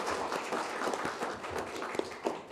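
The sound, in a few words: audience applause welcoming a speaker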